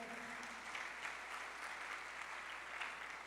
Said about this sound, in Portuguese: aplauda ao Senhor com alegria.